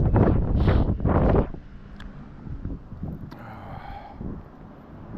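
Cold November wind blows outdoors during a walk in Lewiston, Maine, buffeting loudly with low rumbling gusts at first, then easing to a softer, steady rush with light rustling.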